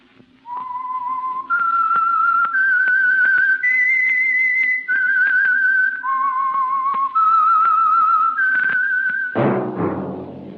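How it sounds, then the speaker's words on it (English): A clear, melodic whistled tune, the signature theme of the 1940s radio show The Whistler, with sustained, steady notes rising and falling in sequence, ending in a sudden burst of noise. "That whistle is your signal"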